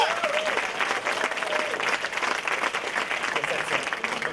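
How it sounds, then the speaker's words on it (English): An audience at a DOC NYC 2013 film premiere gives sustained applause, a dense steady wash of many hands clapping for several seconds, with a voice speaking briefly over it near the start. "I think she deserves a round of applause."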